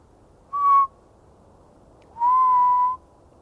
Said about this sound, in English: so trying to whistle to get them all riled up